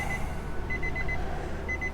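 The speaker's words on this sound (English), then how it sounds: "So that beeping is annoying." A thin, high electronic warning beep from a 2006 Nissan Maxima with the key inserted chimes in repeated bursts over a steady low engine-like hum, close by and fairly quiet.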